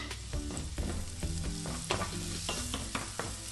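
Onions soften, sizzling and crackling steadily in a hot pan, with a utensil stirring and scraping through them at intervals.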